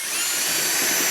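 A power drill drives self-tapping screws into an aluminum intake shutter screen, a brief, loud, close whirring whine that holds steady over about a second.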